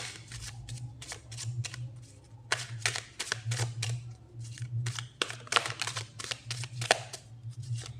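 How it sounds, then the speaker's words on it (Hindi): Tarot cards being shuffled and drawn by hand, a string of crisp riffling bursts and rapid papery flutters in irregular clusters, close and clear over a steady low hum, with no talking. "एक कार्ड से और निकाल लेते हैं, एंजल्स, यूनिवर्स, एक कार्ड और।"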